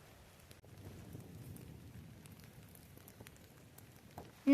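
Steady rain patters over a bushcraft shelter at a solo overnight camp beside a campfire, a soft continuous hiss with scattered light drop ticks and a louder knock at the very end.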